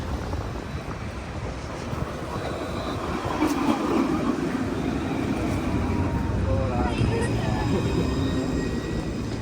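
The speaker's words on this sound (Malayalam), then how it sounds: "നമ്മുടെ ട്രാം വരുന്നുണ്ട് കേട്ടോ, കാണിച്ചു തരാം. ഈ വരുന്നതാണ് നമ്മുടെ വണ്ടി." A tram in Paris rumbles into a stop with steady low mechanical noise and faint squeals, filling the whole stretch amid busy street sounds.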